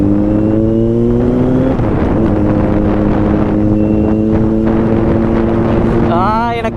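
A 2021 Kawasaki Z900 motorcycle rides with its exhaust note droning loud and close, the steady engine tone dipping slightly and then rising again, with a brief higher whine near the end.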